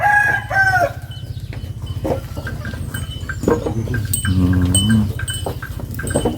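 Thai-Brahman crossbred cattle let out to graze clank their cowbells in a steady rhythm at close range, while a rooster crows nearby and fowl cluck.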